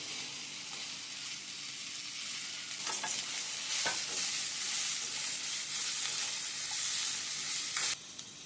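Two large tomatoes sautéing with a sizzle in a pan for arachivitta kara kuzhambu, stirred with scraping passes and steady hiss, close and alone.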